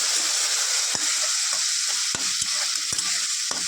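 Bitter gourd curry cooked with mustard frying in a pan: a loud, continuous hiss of sizzling broken by regular scraping knocks of a spatula stirring, about every half second.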